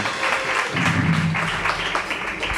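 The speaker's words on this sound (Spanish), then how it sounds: "¿Cuánto le dan ese aplauso a la palabra?" A church congregation claps after a Sunday sermon, the applause dense and sustained across the short moment, with a faint voice under it.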